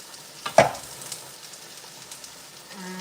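Potatoes frying with onions in a pan give a close, steady sizzle, opened by a couple of sharp clattering stirs, then crackling on evenly with a faint tone near the end.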